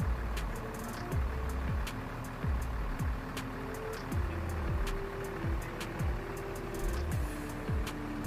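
A Toyota Avanza car engine idles and revs nearby outside a roadside restaurant, with a steady low rumble, repeated rising whines and regular ticking in the background.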